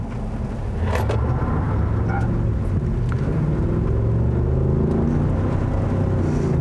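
A 2020 Ford F-250 Tremor pickup with a naturally aspirated 7.3-liter pushrod V8 and 10-speed automatic drives on wet roads, its engine a steady, close low rumble that swells slightly after the first second and holds.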